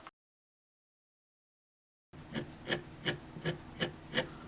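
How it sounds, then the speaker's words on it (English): A dome chisel lightly scrapes the surface of a carved pumpkin in a steady series of soft, rhythmic rasping strokes, close and quiet, following a brief silence. "I love this dome chisel for this. I'm just going to very lightly scrape it"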